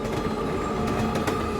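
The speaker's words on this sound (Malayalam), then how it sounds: "ട്രെയിൻ നിന്നില്ല, പാഞ്ഞു പോയിക്കൊണ്ടിരിക്കുകയാണ്" A runaway driverless train in an animated children's show speeds along with a steady, loud rolling rumble and faint rhythmic clatter; no one speaks.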